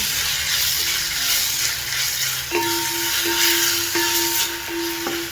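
Tomato seasoned with salt and chili powder sautés in a pan, a steady sizzle with scraping stirs and a few clanking utensil knocks, close and continuous.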